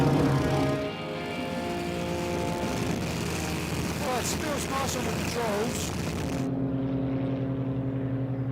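An SE5 biplane drones in flight with a sustained engine and propeller roar and a steady harmonic hum that cuts off near the end, leaving a lower rumble.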